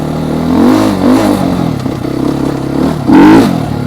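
A Trailmaster TM 38E engine revs in rising and falling surges, a steady mid-pitched drone with a sharper climb near the end, close and loud with no talk over it.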